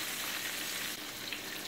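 Oyster mushrooms fry steadily in hot oil, giving off a dense, even crackling sizzle that holds at a constant level throughout, with no voices.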